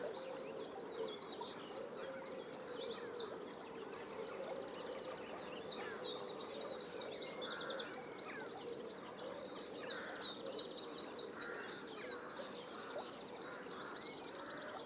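Willow warblers call beside a river, with high, quick chirps and short trilling phrases repeating over a constant soft rush of flowing water, fairly near and with no voices.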